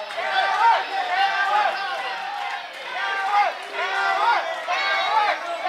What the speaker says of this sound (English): Audience calling Barry Wolf a coward.